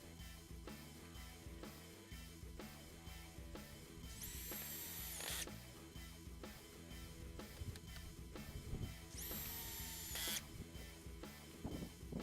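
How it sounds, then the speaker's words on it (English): A power drill boring pocket holes into wood for a patio table, with two loud whirring bursts of drilling separated by quieter handling and tool noise, heard up close with no talking. "we're going to put pocket holes in here on the sides"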